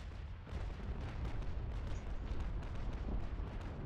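Ship cannons firing chain shot from bow chasers in the naval battle game Naval Action: a dense, distant rumbling barrage of booms blending into continuous low roar.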